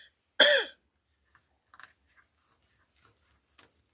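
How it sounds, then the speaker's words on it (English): A single loud, close cough from a person making a blue floral pixie wreath, followed by faint scattered handling clicks and rustles in an otherwise quiet room. "excuse me for coughing"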